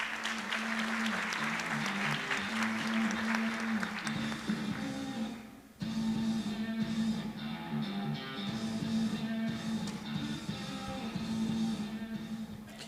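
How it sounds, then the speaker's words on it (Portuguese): An audience applauds steadily at a conference closing panel, a dense patter of clapping that briefly dips before resuming and slowly tapering off. "Uma salva de palmas."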